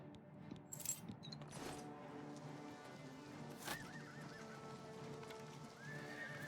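Horse neighs and whinnies in Oblivion Remastered, with clip-clop hooves and a background of game music and ambience, a few sharp whinnies standing out loudly over the steady mix.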